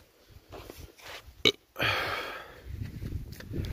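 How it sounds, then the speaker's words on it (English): A single short burp from a person on a casual livestream, a brief loud burst near the mic, followed by a stretch of noisy background hiss and rustle. "Oh, excuse me, I burped."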